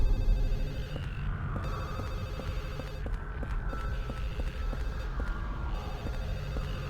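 A telephone rings on in the Silent Hill 4 video game, set against a low throbbing hum with faint regular clicks, the ringing steady and somewhat distant.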